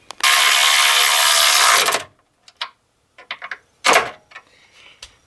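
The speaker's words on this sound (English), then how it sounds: "Let me torque this down." Ratchet wrench torquing down sway bar bushing bolts on a 2009 Subaru Forester, one long continuous buzzing ratchet run up close, then a few scattered short clicks and clunks.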